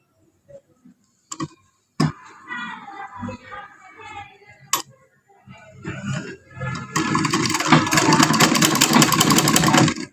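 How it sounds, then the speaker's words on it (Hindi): A sewing machine stitching fabric runs for the last few seconds as a dense, fast mechanical whir, loud and close. Before it come scattered clicks and handling noises with someone talking in between. "यहाँ पर इसकी स्टिचिंग कर लेते हैं।"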